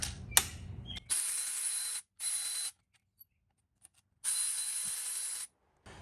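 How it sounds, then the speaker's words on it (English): A power tool whirs in short bursts while removing 5mm Allen bolts from the oil filter cover of a Yamaha WR450F dirt bike, with brief close clicks between spins. "you can go ahead and remove these other two 5mm Allens to remove the cover"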